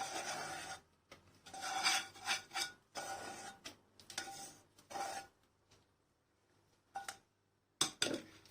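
Melted chocolate and butter scraped and poured into a bowl of whisked eggs and sugar for chocolate brownie cookies, giving close, soft rubbing and scraping bursts in uneven strokes with short pauses between.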